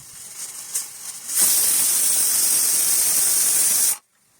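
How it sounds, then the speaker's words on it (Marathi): A pressure cooker holding egg bhurji pulao on a high flame lets out steam in a loud, sustained hiss of about two and a half seconds that cuts off abruptly, after some quieter kitchen noise. "आता कुकरचं झाकण लावून मोठ्या आचेवरती एक शिट्टी करून घ्यायची"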